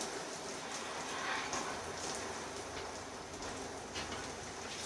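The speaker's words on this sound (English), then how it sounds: "we're going to add our minced garlic. Just like such. And we're going to let that saute for about a minute." Minced garlic sautés in butter in a pan while creamy Cajun chicken pasta is being made: a steady, close sizzle and crackle that runs unbroken from start to finish with no voices.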